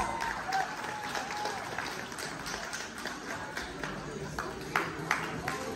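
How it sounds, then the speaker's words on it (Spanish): Applause from guests at a quinceañera celebration, a moderate, somewhat distant patter of clapping mixed with crowd murmur and chatter in a large room. "Ahora sí les pido un fuerte aplauso"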